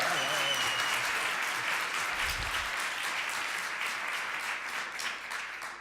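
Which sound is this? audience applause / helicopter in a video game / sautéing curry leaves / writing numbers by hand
audience applause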